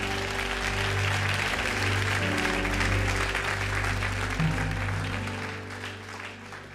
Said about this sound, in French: si quelqu'un me suit, acclame, acclame